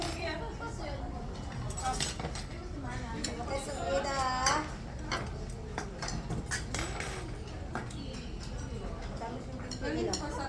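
Pots, ladles and dishes clink and clatter at a casual meal during a gathering, with light intermittent metallic taps mixed under steady background chatter.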